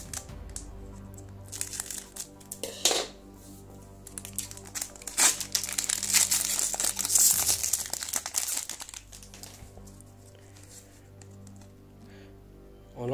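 Plastic foil wrapper of a Pokémon TCG Fusion Strike booster pack crinkling and tearing as it is opened, close and crisp, with bursts of crackling that build to a dense rustle before trailing off into quieter handling.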